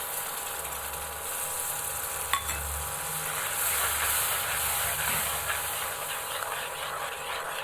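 Onion frying with ground garlic and chili paste gives a steady, close hiss and sizzle throughout, with a faint clink or stir near the middle.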